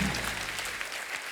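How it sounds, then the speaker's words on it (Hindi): A studio audience at a comedy talk show applauds loudly and densely for the four guests, a continuous close wash of clapping with a slight crowd murmur underneath. "जोरदार तालियां हो जाए हमारे चारों मेहमानों के लिए।"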